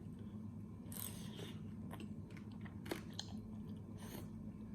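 Close, quiet chewing while eating spicy salmon salad, a few crunchy bites and wet mouth sounds spaced irregularly over a soft background hum, without speech.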